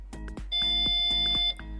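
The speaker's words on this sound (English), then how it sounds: "press and hold the button until it beeps" A Tesla Model S trunk gives a short electronic beep while its button is held, a steady tone lasting about a second amid a few soft clicks and thumps.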